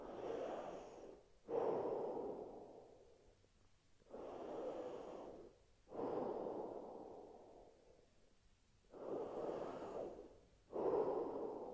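Heavy, forceful breathing during a pressure-loaded shoulder exercise, with three strong exhale bursts each followed by a quieter inhale, close and loud in a steady rhythm with no talk.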